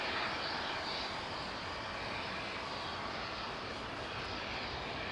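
A Boeing Dreamliner departs Heathrow, its engines producing a loud, steady broadband roar that stays constant and close, with no voices.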